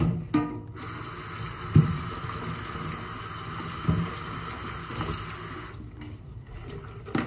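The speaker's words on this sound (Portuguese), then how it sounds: "Vamos colocar água aqui." Running water fills a container while homemade soap is being made, a steady broadband pour lasting several seconds with a few soft knocks and clunks, and no talking.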